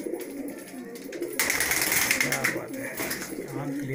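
Malwai pigeons cooing in a loft, soft repeated low coos over a steady rustling background, with a louder burst of noise partway through.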